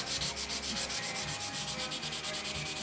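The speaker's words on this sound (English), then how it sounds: "I've got me a fresh piece of uh, 320 grit sandpaper, and we're just going to start going to town on this thing here" Fresh 320 grit sandpaper rubs back and forth over a 1/350 scale plastic model kit filled with putty, a close, fast, steady rhythmic scratching with regular strokes.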